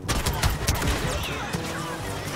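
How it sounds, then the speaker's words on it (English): Rapid bursts of blaster-style gunfire from the Star Wars Battlefront video game crackle close and loud, with overlapping shots packed into a couple of seconds. "I missed every one of those shots"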